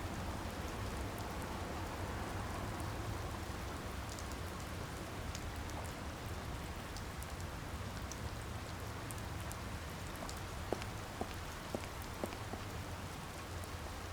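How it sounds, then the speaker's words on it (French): Rain falls steadily in the Secret Files 2 adventure game, a soft, even hiss at low volume with a few faint drips scattered through it. "La pluie."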